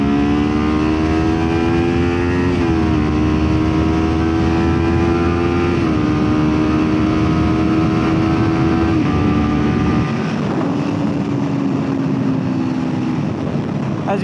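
Kawasaki Ninja 400 motorcycle with a Leo Vince exhaust held at full throttle, a loud steady engine drone climbing in pitch through several gear changes, with brief dips at each shift, then easing off amid wind rush near the end.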